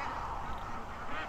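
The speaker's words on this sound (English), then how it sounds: "animals quacking in the back" Ducks or geese quack and honk in the background on a cool fall day at a rural home, a busy, steady layer of calls mixed with outdoor noise, no speech.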